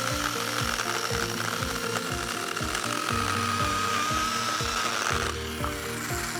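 A red battery-powered mini chainsaw cuts through a tree limb. A steady, loud, buzzing motor whine plays over a rapid, rattling chain chatter for several seconds, and there is no talk.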